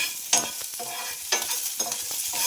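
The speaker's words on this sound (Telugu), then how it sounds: "ఇది బాగా ఫ్రై చేసుకోవాలి." Chopped green chillies fry in a pan for a spicy tempering, giving a steady broadband sizzle with a few louder stirring scrapes and bursts, fairly close and alone.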